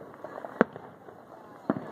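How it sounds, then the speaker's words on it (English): Two sharp firework bursts pop at a lake fireworks show, a second or so apart and moderately distant, over faint background chatter. "Look at this fireworks show."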